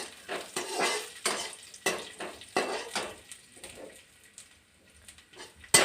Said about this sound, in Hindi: इन सभी को हम भूंज लेते हैं अच्छे से घी में